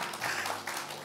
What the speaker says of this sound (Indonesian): Tepuk tangan dulu saudara sama Tuhan saudara